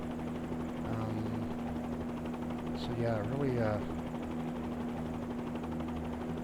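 A Bell 47 helicopter in Microsoft Flight Simulator drones with a steady, even rotor and engine hum under a voice talking.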